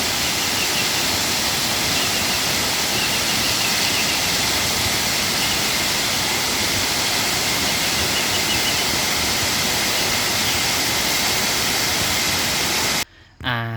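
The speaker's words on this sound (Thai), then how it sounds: "ซึ่งน้ำตกตาดแห่งนี่นะมีชื่อว่าน้ำตกตาดขุนลูนางอั่วนะพี่น้องเนาะ" The Khun Lu Nang Ua waterfall in Thailand pours as a steady, dense, broadband roar heard up close, loud and unbroken for over thirteen seconds before cutting off abruptly.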